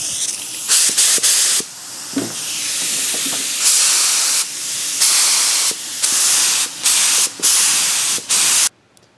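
Harbor Freight paint gun spraying Nissan Daytona Blue paint onto a Nissan 350Z, loud close hissing bursts in repeated on-off pulls of varying length, no talk.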